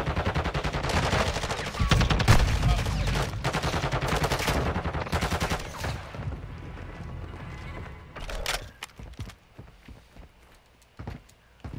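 Video game gunfire in a ranked match, bursts of rapid shots dense and loud for the first six seconds, then thinning to scattered isolated pops and a few louder bangs near the end.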